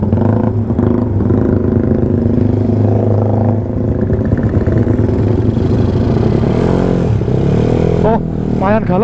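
A Yamaha Mio automatic scooter on a night ride revs loudly and close, its engine buzz rising and falling with the throttle while people talk over it.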